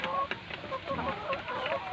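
Chickens on a farm clucking and murmuring through the whole stretch, a busy layer flock at egg-harvest time with several birds calling over one another at close to moderate distance, no talk.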